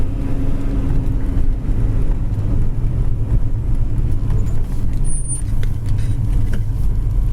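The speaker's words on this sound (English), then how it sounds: "Car really idles down nice" A 1972 Chevy Chevelle Super Sport 454 with a four-speed idles steadily, a loud, low, rumbling engine note that stays even throughout without revving.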